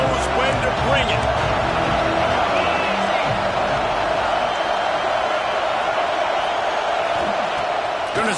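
Football stadium crowd roaring at an Oregon vs Ohio State game, a broad, sustained wall of cheering that stays loud throughout, with a commentator talking over it.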